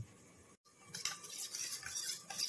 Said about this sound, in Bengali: এর ফাঁকে দুধের মধ্যে ময়দাটাকে ভালোভাবে গুলিয়ে রাখবো